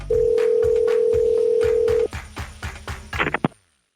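Telephone line tones during a call transfer: a long steady electronic tone for about two seconds, then a quick series of clicks and short tonal bursts that cut off into silence.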